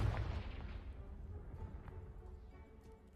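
A Confringo blasting spell detonates against a piled barricade in Hogwarts Legacy, a loud low boom opening the moment and then rolling into a long, dull rumble that slowly fades.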